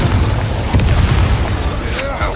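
Heavy booms from a Confringo explosion spell in the video game Hogwarts Legacy, with bursts layered over a rumbling battle background and a voice speaking over the blasts.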